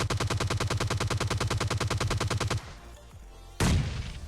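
Gunfire in the video game PUBG Lite: a long, rapid burst of automatic shots, loud and regular. It stops abruptly, followed by a brief lull and then a single heavy grenade blast.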